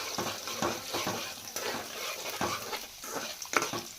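Peanuts and spices frying in a pan, cooked for puliyogare with green chilli: a steady crackling sizzle with scattered pops and stirring scrapes, close and continuous.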